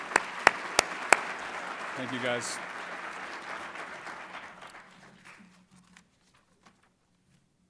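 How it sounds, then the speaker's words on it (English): A quick round of applause from an audience at a Denver leadership program presentation, starting with a few sharp claps and swelling into a brief patter that fades out over several seconds, with a voice speaking over it. "Just a quick round of applause for my fellow presenters"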